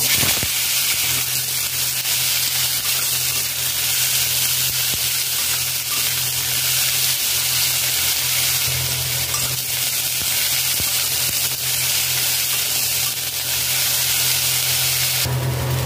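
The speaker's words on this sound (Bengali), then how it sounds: "low to medium flame 5 minute ভেজে নিয়েছি" Taro and potato fry in hot mustard oil in a wok, giving a loud, continuous sizzle with occasional stirring scrapes throughout.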